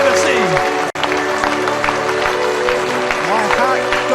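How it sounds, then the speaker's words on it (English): A capacity wrestling crowd in Sittingbourne applauds and cheers after a professional match, a dense, continuous roar of clapping with a commentator talking over it throughout. "I wish you could feel the electricity of this capacity crowd in Sittingbourne"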